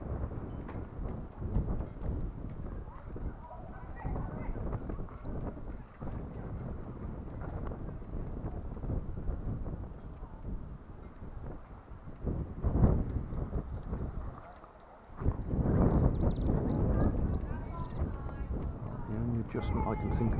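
Strong wind at Hope Cove beach during kite flying buffets the microphone with a loud, continuous low roar of gusts, easing briefly before surging back.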